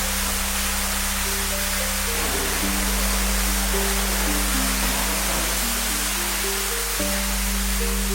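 Steady rushing water of a waterfall beside a private pool at a cottage in Wayanad, a continuous broadband roar holding at even loudness throughout, with a low constant hum running beneath it.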